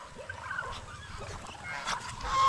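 Farm ducks give a busy run of honking, goose-like calls over a steady rustling background, with several overlapping birds at close to moderate distance growing louder toward the end.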